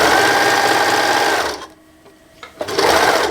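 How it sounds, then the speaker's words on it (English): An overlocker serger stitches around the sleeves of a dress in a loud, fast continuous whir that briefly pauses and then resumes. "then you can like tunnel it through the overlocker"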